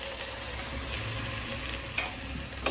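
Crushed prepared masala with bay leaf sizzles in a pan for jowar methi handi, a steady bright frying hiss with occasional scrapes of stirring.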